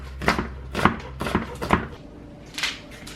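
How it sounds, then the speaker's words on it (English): Onions chopped with a knife on a board: four quick, evenly spaced thuds, then a pause and one last chop, close and clear with no talk. "because I forgot to chop my onions, we're gonna do this really"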